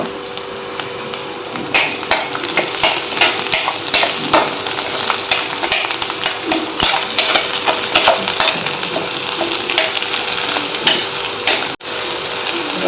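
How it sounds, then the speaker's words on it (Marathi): Chopped garlic, chili and ginger fry in a wok with a steady, busy crackle. Repeated metallic scrapes and clinks of stirring sound over it, with no talking. "त्याच कढईत आपण बारीक कापलेलं लसूण टाकायचं आहे, मिरची आणि बारीक कापलेलं आलं टाकायचं."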